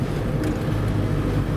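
Campervan Rosalie driving along a road on the Isle of Arran, a steady low engine and road rumble with wind buffeting the microphone, continuous and fairly loud throughout.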